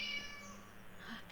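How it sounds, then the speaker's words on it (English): A cat meows a few times nearby in a high, drawn-out tone, with no voices over it. "I hear a kitty"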